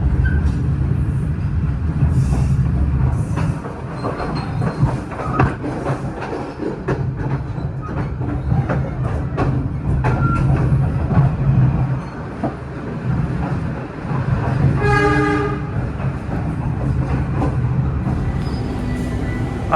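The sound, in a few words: Kahuripan economy class train arriving and stopping at Blitar station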